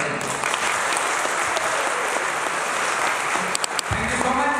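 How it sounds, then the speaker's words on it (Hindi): Seminar audience in Raipur gives sustained, dense applause at a blockchain business event, loud and continuous, with a voice briefly cutting in near the end. "अपने आप के लिए एक बार जोरदार तालियां"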